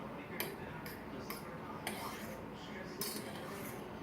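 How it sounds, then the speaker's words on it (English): Lime juice stirred into a dish while making Mexican tilapia, with a utensil giving a handful of faint, irregular clinks against the bowl over a soft, steady background. "Stir this up."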